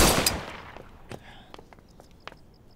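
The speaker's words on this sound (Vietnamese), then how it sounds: "Tiếng súng sẽ khiến người ta phát hiện đó." A single loud gunshot bursts at the start of a fight scene in a Chinese martial-arts action film, followed by a decaying tail and a few faint clicks and scuffs.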